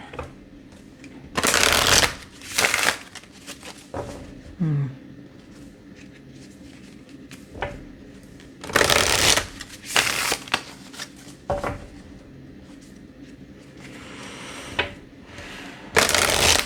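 Playing cards are shuffled repeatedly, with riffling bursts and soft taps in irregular rhythm; a brief faint voice appears once.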